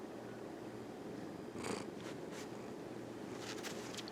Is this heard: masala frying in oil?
no